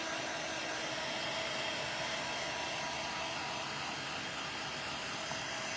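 A steady, continuous blowing whir like a hair dryer or heat tool runs at an even level throughout, with no voices.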